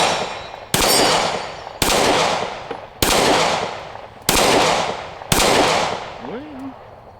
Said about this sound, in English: We're just going to do some shooting.